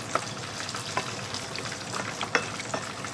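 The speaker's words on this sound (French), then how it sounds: "Après, je vais rajouter de l'eau. Je mélange." Cornstarch mixed with water is stirred in a bowl to make a homemade hair detangling mix, giving soft repeated scraping and swishing over a steady faint hiss, close and quiet, with no talking.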